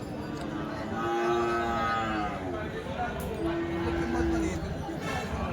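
Desi cows lowing with long drawn-out moos, several animals, over the steady murmur of a crowd talking at a busy outdoor livestock market in Dhule.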